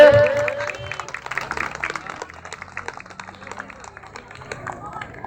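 An audience applauds at a club award ceremony with a judges' presentation, a burst of loud close clapping that thins into scattered claps under crowd chatter.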